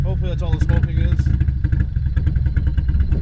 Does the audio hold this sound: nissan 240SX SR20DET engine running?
yes